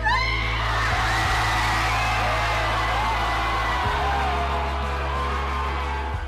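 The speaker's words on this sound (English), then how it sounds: "Deafening screams from all around me, hugs, people tackling me." A packed crowd in a small town screams, whoops and cheers at an NFL draft pick by the Green Bay Packers, a loud, sustained roar of many voices all around, close and continuous with no pauses.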